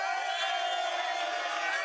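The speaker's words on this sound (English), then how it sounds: "They're booing me." A large crowd boos continuously, a dense wash of many voices shouting and jeering with no break.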